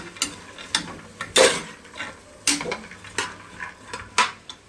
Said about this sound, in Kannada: ಇದು ಒಂದು ನಿಮಿಷ ತನಕ ಆದರೂ ಫ್ರೈ ಮಾಡ್ಕೊಳ್ಳಿ ಚೆನ್ನಾಗಿ ತರಕಾರಿನ